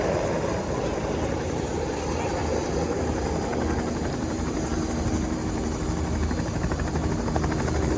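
Helicopter taking off near Fulton Street at the New York City seaport, a steady loud rotor and engine roar with broad rumble that holds through the whole stretch, no talking.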